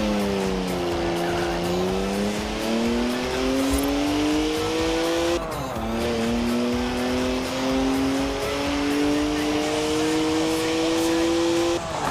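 BMW 1M racing in Forza Horizon 4: a loud engine climbs through revs in long rising sweeps, drops briefly at a gear change, then pulls upward again with faint tire noise.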